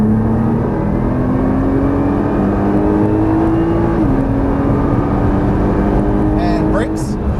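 Nissan GT-R engine pulling hard at full throttle on a track, a steady rising drone that climbs in pitch, drops briefly at a shift, then climbs again, loud and continuous, with an instructor talking over it.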